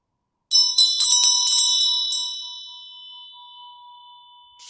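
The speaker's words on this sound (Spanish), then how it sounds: "si toco aquí la campana," A bell is struck once: a bright metallic ding with several quick follow-up clangs, then a long ringing tone that slowly fades.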